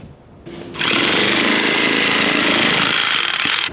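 A tailor's sewing machine starts up and runs at a fast, steady buzzing stitch, loud and close, after a brief quieter lead-in, continuing evenly until the end.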